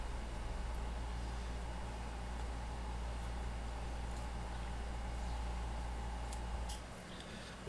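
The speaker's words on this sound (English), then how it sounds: "You can probably hear the air conditioner in the background a little bit" An air conditioner hums steadily in a hot, humid room during an airbrush painting session, a constant low drone with faint higher whine, continuing alone until it dips near the end.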